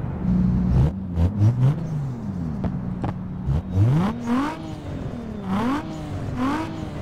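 A video game race car engine revs hard, its pitch climbing and dropping with each gear change, loud and close with no talking.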